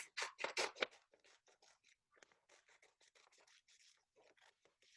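Scissors cutting paper columns into ballots: a few loud snips up front, then a long run of quieter, quick, regular cutting strokes, close and alone without talk.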